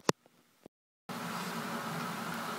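An Edutige EIM-001 external microphone plugs into an iPhone: a couple of soft clicks and a short rustle, then a brief dead silence before a steady, louder hiss floods in and continues to the end.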